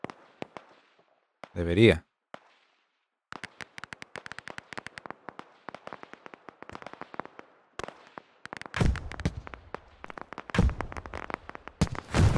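Gunfire in a tactical street-by-street war video game pitting USA against Russia, sharp bursts of rapid shots and single cracks scattered through the stretch, some loud and close, with a player talking over and between them.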